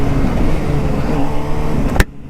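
A new motorcycle accelerates along a road, its engine a loud, steady drone throughout that cuts off abruptly near the end, leaving quieter background.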